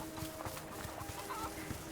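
Chickens cluck in the video game A Plague Tale: Requiem, with a series of short, close clucks scattered over a steady ambient background.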